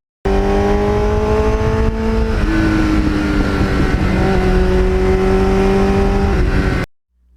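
A 1989 Kawasaki GPX750R motorcycle runs loud and close with a steady engine drone, its pitch shifting slightly as the revs change, before cutting off abruptly.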